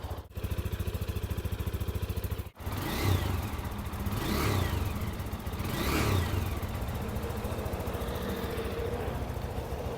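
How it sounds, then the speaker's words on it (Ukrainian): A motorcycle engine idles roughly, then revs up several times, each rise carrying a thin rising whistle above the engine's rumble. "Навіть щось свистить, як турбіна. Я вам скажу, що цей свист з'являється, коли він починає хорошо вже тягнути."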